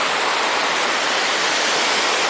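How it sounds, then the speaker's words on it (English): A small waterfall on a river in Steyr, Austria roars as a loud, constant broadband rush of falling water with no letup. "Probably won't be able to hear me over the roar of that little waterfall over there."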